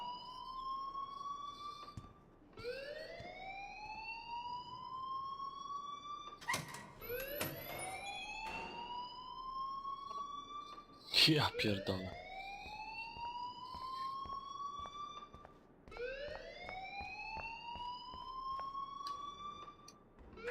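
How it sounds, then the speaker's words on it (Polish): A fire alarm in the video game Life Is Strange sounds as a series of rising electronic whoops, repeating every few seconds at a steady level, with some sharper clatters between them and a brief spoken exclamation partway through. "please turn off that alarm since that's your job"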